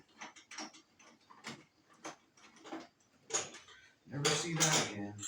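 A metal bolt dropped during motorcycle detailing work on a clear-coated gas tank clatters and rattles near the end, after a stretch of talk and small handling noises close by.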